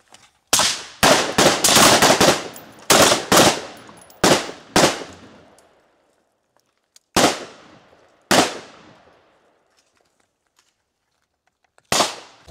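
Rifle gunfire at shooting targets during a night range session: a rapid string of loud, close, sharp shots, then single shots spaced farther apart with quiet gaps between them.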